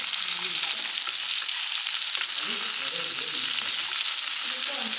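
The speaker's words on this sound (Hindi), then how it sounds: "चिकन को हमें हाई फ्लेम पे अच्छे से फ्राई करना है 6 से 8 मिनट के लिए।" Marinated chicken for chicken changezi fries on high flame, a loud, close, continuous sizzle with soft stirring and scraping sounds mixed in, keeping an even level until it cuts off abruptly at the end.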